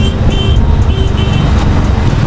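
Honda CB350 RS motorcycle engine and exhaust on the move, a steady, loud, close rumbling drone with road and wind noise throughout, no talking.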